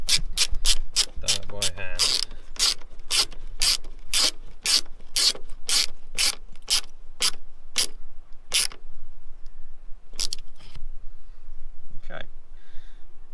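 A ratcheting screwdriver with a Phillips bit works a screw on a VW T5 van, giving a fast run of sharp, evenly spaced ratchet clicks up close, then a pause and a few scattered clicks with faint voice.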